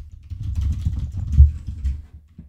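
Keys clatter on a computer keyboard as a short phrase is typed into an Excel spreadsheet, a quick run of light, close clicks over a soft low hum.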